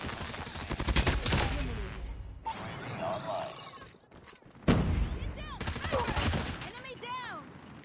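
A Chopper LMG in a multiplayer shooter video game fires rapid bursts in loud fusillades, near and sharp, broken by short gaps and mixed with other game effects while players talk.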